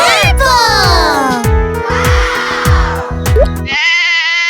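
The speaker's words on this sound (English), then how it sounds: "That's a sheep, a purple sheep." Loud, repeated bleating of a toy purple sheep popping from a jack-in-the-box, with pulsing electronic tones behind it and a sustained synthetic note at the end.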